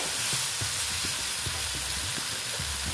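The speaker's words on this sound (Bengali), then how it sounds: "এইভাবে কষিয়ে নিচ্ছি" Okra and lentils frying in a pan, a steady bright sizzle throughout with soft rhythmic scrapes and knocks of a spatula stirring, close and continuous, no talk.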